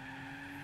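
Sustained tire squeal from a one-wheel spin in Gran Turismo 4, a steady screeching tone over a low engine drone, brief and constant with no talking.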